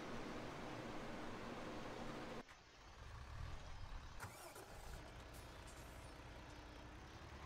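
A truck engine idles and rumbles in Landwirtschafts-Simulator 17 on a farm, with a low steady drone that breaks off abruptly, then resumes alongside a hissing air-brake release and clunks.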